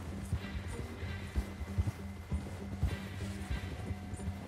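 Horse hooves clip-clop steadily in Red Dead Redemption 2, a rhythmic trot heard at moderate distance over a low background hum.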